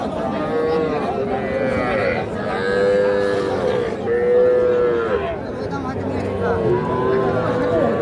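Bull and heifer calves moo repeatedly at a busy cattle market, several loud drawn-out calls overlapping one another against steady crowd chatter and people talking nearby.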